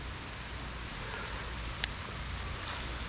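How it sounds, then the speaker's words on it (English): Steady rain patters evenly on a surface outdoors while fishing, a constant soft hiss with one faint click partway through, no voices. "The rain ain't gonna stop me."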